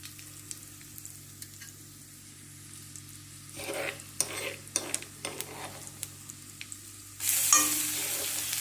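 Spices sizzling and being stirred in hot oil for spicy curd ladyfinger (dahi bhindi), starting with asafoetida: scattered scrapes and clinks of stirring, then a loud, steady frying hiss near the end.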